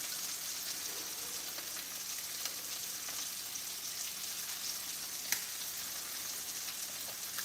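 Food sizzling gently in a pan on a kitchen stove over low flame, a soft, steady crackling hiss with occasional sharp pops.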